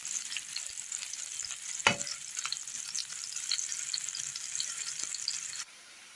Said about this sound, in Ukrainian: Ось так невеличкою вона віддасть свій сік і підсмажуємо до золотистого кольору.